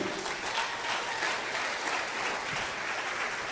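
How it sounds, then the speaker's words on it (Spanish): Church congregation applauding during an evening sermon, a continuous, dense wave of clapping at steady volume from start to finish. "denle fuerte aplauso al Rey"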